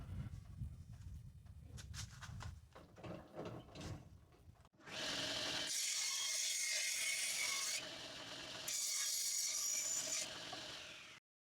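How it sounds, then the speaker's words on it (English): Rough sawn pallet wood being cut to length for stool legs, first a run of uneven rasping saw strokes, then two long, loud, steady buzzing cuts close by with a short pause between, and no talk. "Now I'll go and cut them to length."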